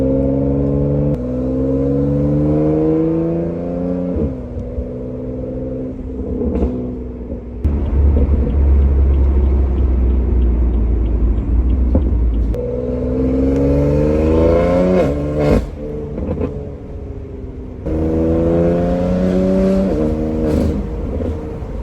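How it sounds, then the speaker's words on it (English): A BMW F80 M3 with catalyst downpipes, charge pipes, intake and Valvetronic exhaust pulls hard through several rising gears, its loud raspy engine note climbing and dropping with aggressive downshifts and deep rumbling between pulls. "With the catalyst downpipes and the Valtronic exhaust, it gets pretty loud."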